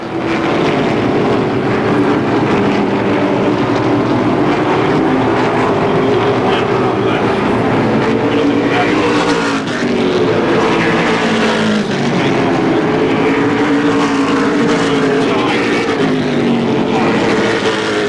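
Asphalt winged sprint cars racing at Motordrome Speedway make a loud, continuous roar of engines with pitch sweeps as cars pass close by, and a track announcer talks over it throughout.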